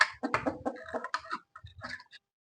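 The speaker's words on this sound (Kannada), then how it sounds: "ಇವೆಲ್ಲ ಫೈಟರ್ ಕೋಳಿ. ಎಲ್ಲ ಫೈಟರ್." Native fighter chickens cluck in short, irregular bursts close by, several overlapping calls with brief pauses between them.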